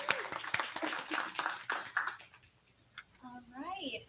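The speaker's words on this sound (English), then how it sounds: "So I would just like to give a round of applause for Tyler Smith." Audience applause at a college commencement ceremony, a burst of clapping over the first two seconds that fades out, followed by a brief voice and some tonal sounds near the end.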